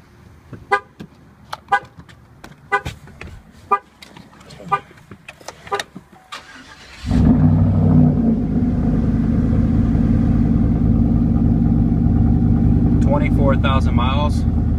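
2013 Chevrolet Silverado truck with tow package, several sharp short clicks and taps, then the engine cranks and starts and settles into a loud steady idle, with a voice briefly speaking near the end.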